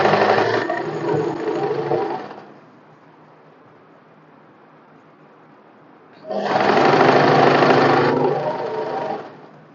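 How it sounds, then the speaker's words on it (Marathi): A sewing machine stitching a cotton one-piece dress runs in two loud, close bursts of rapid whirring, each about two seconds long, with a quiet pause between them and no talk. "मी फक्त असं स्टिच करून घेते अर्धा इंच"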